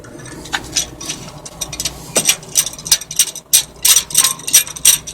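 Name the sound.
giant C-clamp compressing a Honda Odyssey brake caliper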